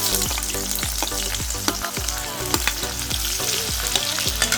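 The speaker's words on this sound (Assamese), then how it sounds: "তেলখিনি গৰম হৈ গ'ল আৰু ইয়াতে মই পিঁয়াজ আৰু জলকীয়া দি দিছোঁ।" Onion and green chili frying in hot oil with a dense, steady sizzle and rapid stirring scrapes and clacks of a spoon against the pan, close and loud, with music underneath.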